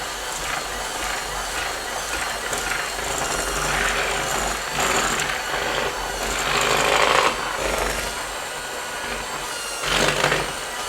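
Electric mixer running at high speed through vanilla buttercream frosting, a steady loud mechanical whir with a grinding edge that swells and eases a few times, alone without voices.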